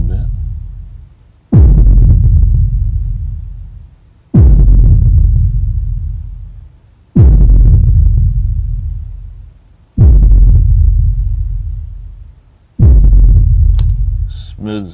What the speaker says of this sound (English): Let's take a little of the fuzz back out.